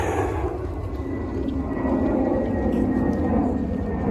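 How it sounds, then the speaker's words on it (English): A low, steady roar of an airplane passing overhead near Reagan National Airport at the Washington DC Tidal Basin, filling the whole stretch with a continuous rumbling drone. "can hear the plane overhead"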